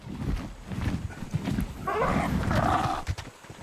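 An Equus horse in the survival game ARK: The Island whinnies and snorts amid hoof thuds and game noise, a short bright whinny in the middle standing out over the steady clatter.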